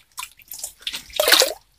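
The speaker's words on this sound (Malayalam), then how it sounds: "ആദ്യത്തെ ടാങ്കിലുള്ള വെള്ളമാണ്, ആൽഗ വാട്ടർ ആയിട്ടുണ്ട്. അത് നമുക്ക് ഇതിലേക്ക് കുറച്ച് ആഡ് ചെയ്യാം." Algae-green water poured from one tank into a homemade guppy fish tank, a few short splashy bursts ending in a louder, sustained pour.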